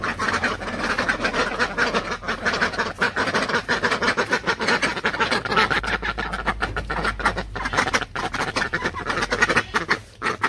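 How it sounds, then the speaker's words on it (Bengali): Ducks quack repeatedly near a village home in the afternoon, a loud, busy chorus of honking calls filling the air alongside chickens and general outdoor noise. "এই পাশে হাঁস এসে পড়ছে"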